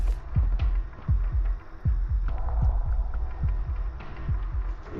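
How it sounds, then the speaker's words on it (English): A video game heartbeat effect, a deep double-thump pulse repeating steadily about twice per second over a low hum, loud and close, with no voices. "You can hear the heart beating."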